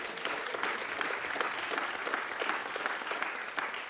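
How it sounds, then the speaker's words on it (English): Lecture audience applauding steadily, a dense wash of many hands clapping without break across the whole stretch, moderately distant in a hall. "You get some applause."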